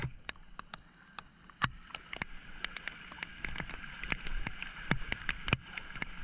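Strong floodwater current flowing through a flooded street: continuous rushing and gurgling water broken by scattered sharp splashes and knocks, fairly close and unevenly loud.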